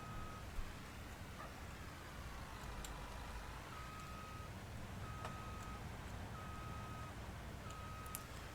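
Truck reversing alarm in the farming game Farming Simulator 19, steady repeating beeps at a regular pace over a low engine rumble, moderately faint and with no talking.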